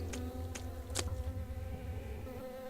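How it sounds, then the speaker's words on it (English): Generic insect buzzing from the PC game Two Worlds 2: a steady, droning hum runs continuously and alone, with a few faint clicks over it. "And yes, I hear that buzzing too"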